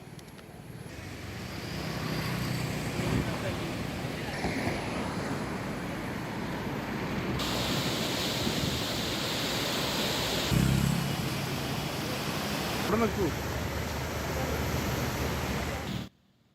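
Bharathapuzha river running high in flood, a steady broad rushing roar of water that holds at an even level throughout, with wind-like hiss on top and no voices.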